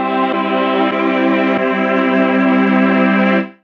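A Mellotron chord in Logic Pro X, played with the tape speed slowed down, sustains as a dense, steady held chord for over three seconds before cutting off, loud and alone.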